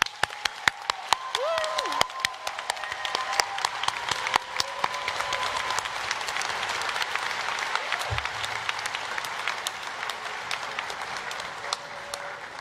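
Applause from a crowd at a college commencement ceremony, a sustained wash of many hands clapping that holds steady for several seconds, with brief tones and sounds from the venue over it.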